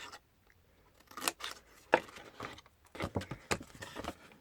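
Scissors snip through card stock while notching a handmade card box, short crisp cuts, several irregular snips spaced apart with quiet pauses between them, close by.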